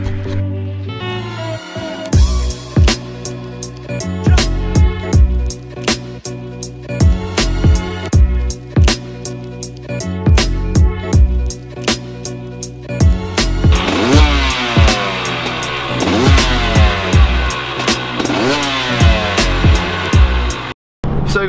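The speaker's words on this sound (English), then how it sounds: "that was my brand new 250 two-stroke 2019" A 2019 KTM 250SX two-stroke dirt bike rides close by and loud, its engine repeatedly revving and dropping back through sharp throttle blips, then holding a higher, busier buzz before cutting off abruptly at the end.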